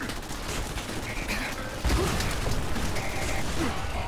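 Charge weapon firing in Fallout 4, a dense mechanical whirring crackle that swells into a louder sustained burst midway, with a faint voice underneath.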